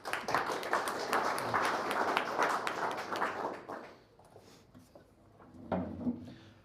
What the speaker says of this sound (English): Let's give applause to our first speaker.